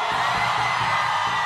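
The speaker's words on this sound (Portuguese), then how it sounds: "Só quem tá feliz aí, dá um gritão." Concert crowd at a show in Rio de Janeiro shouting and cheering loudly, a dense sustained roar of many voices that fills the whole moment.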